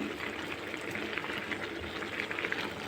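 Tomatoes and tamarind frying in a pan for tomato pickle, a steady close sizzle and bubbling with fine crackling, continuous and fairly quiet throughout, no voices.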